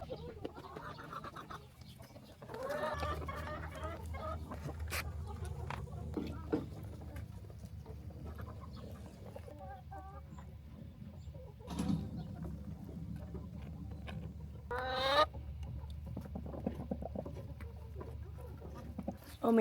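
Chickens in a nesting box on a 150-bird farm in Arizona, with soft clucks and occasional squawks over a steady low hum, broken by brief rustles and a sharper burst near the middle and end.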